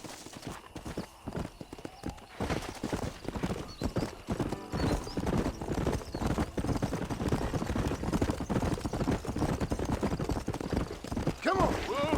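Horse hooves clip-clopping steadily as a rider urges the mount along in the western video game Red Dead Redemption, a continuous close rhythmic patter with occasional whinnies and a voice speaking over it.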